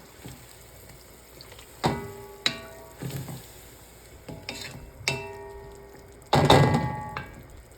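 Beef stew with potatoes is stirred in a pot right after tomato sauce goes in. A soft sizzle runs underneath several distinct spoon knocks and scraping stirs that come at irregular intervals.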